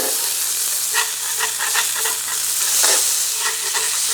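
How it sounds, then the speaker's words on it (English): A smash burger patty sizzles steadily on a hot griddle while a spatula scrapes repeatedly underneath it, a close, continuous frying hiss broken by short scraping strokes. "let's carefully scrape the bottom using your spatula"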